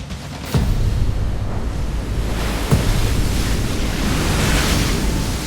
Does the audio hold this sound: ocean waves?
yes